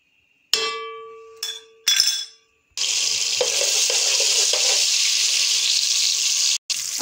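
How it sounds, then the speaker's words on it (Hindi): Ginger garlic paste hits hot oil in a pan after a few clinks of a utensil, then settles into a steady, bright, close sizzle that continues without talk. "अब इसमें जाएगा 1 टेबलस्पून अदरक लहसुन का पेस्ट।"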